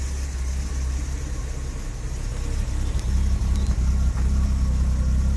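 A Jaguar 4.2-litre engine with new electronic ignition idles steadily at about 650 RPM after a cold start, a close, low, even rumble that grows slightly louder partway through, with no speech.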